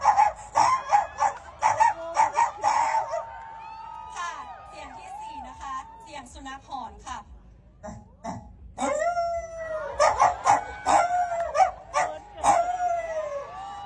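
A beauty pageant contestant vocally imitates dogs barking and fighting, producing a loud run of yips, howls, whimpers and snarling barks in bursts, with brief pauses between the volleys.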